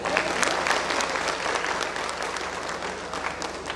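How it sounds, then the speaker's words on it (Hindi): A crowd at the Shravasti Mahotsav inauguration ceremony applauds the Shravasti district administration with loud, dense clapping, strongest at the start and easing slightly as it continues. "मैं चाहूँगी श्रावस्ती ज़िले के ज़िला प्रशासन के लिए एक जोरदार तालियां हो जाए"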